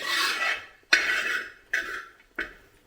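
Egg masala rice is stirred in a pan: four scraping strokes, the first long and the rest shorter, rasping at close range with no talk.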